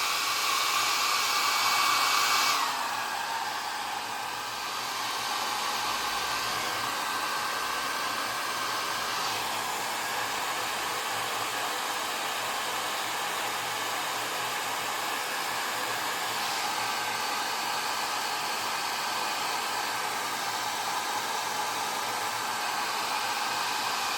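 A hair dryer blows steadily over a wet watercolor landscape painting, a loud continuous whooshing roar that shifts slightly in tone early on and then holds for over twenty seconds without talk.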